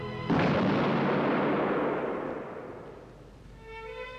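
A single loud firing squad rifle volley erupts at once after a shouted German order, a sharp blast whose roar rolls out and slowly fades, with faint music rising at the end.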